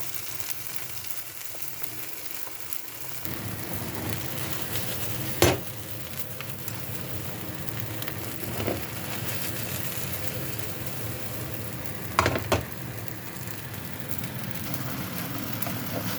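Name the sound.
food frying in a pan after adding oil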